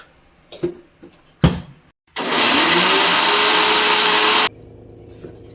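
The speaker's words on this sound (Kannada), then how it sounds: "ಇದು ಫಸ್ಟು ನಾನು ಎಲ್ಲನೂ ಮಿಕ್ಸಿ ಮಾಡ್ಕೊತೀನಿ" A mixer grinder blends masala spices with half a tablespoon of cumin seeds for a vegetable kurma paste, a loud steady whirring roar running for a couple of seconds after a few knocks and clatters.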